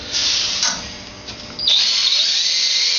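A power drill drives stainless steel screws into Douglas fir 2x4, whining steadily up close, easing off briefly, then surging back louder and holding a high, even pitch.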